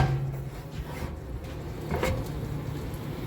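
Rear entry steps on a 2021 East to West Alta 3150KBH bunkhouse travel trailer are pulled out and lock into place, giving a low scraping slide and a dull clunk near the middle, close by with no talking.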